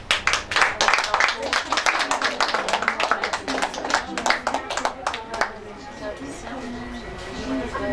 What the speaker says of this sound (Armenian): Ծափահարություններով։